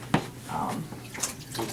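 A newborn baby being gently washed with a little water, starting at the head; soft, faint splashing and trickling with a brief muffled voice-like sound.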